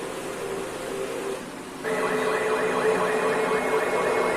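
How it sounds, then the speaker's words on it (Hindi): Wailing ambulance sirens sound during a flood emergency, a continuous rising-and-falling siren tone over engine noise that grows louder partway through as a second warbling siren joins, fairly close and with no speech. "यहाँ पे जो सिचुएशन है, सायरन वगैरह और एम्बुलेंस वगैरह आनी स्टार्ट हो गई है"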